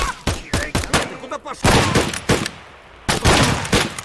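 Gunfire in the video game Escape from Tarkov, loud close bursts of rapid shots and single cracks in clusters with brief quiet gaps, players talking in between.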